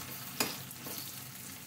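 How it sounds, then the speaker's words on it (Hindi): Green papaya pieces fry golden in a pan for a raw papaya curry, giving a low, steady sizzle with a single sharp scrape of stirring near the start. "इस तरीके से पपीता के पीसेस को इस तरीके से हमने गोल्डन होने तक फ्राई कर लिया है"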